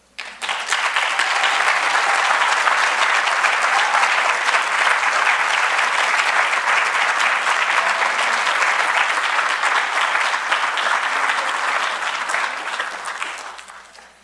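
Sustained audience applause after a speech at an indigenous law conference plenary, broad and steady for about twelve seconds before tapering off, with no talking over it.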